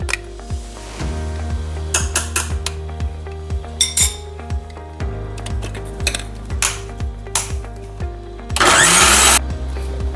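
A mixer grinder blending almonds for almond milk whirs and rattles in bursts, with repeated clinks and a loud grinding surge near the end.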